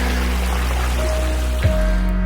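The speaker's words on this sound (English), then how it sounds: "you'll get some nice clear water from here" A stream of clear water flows near a shelter on the Appalachian Trail, a steady close trickling rush heard alone, with a low hum running underneath.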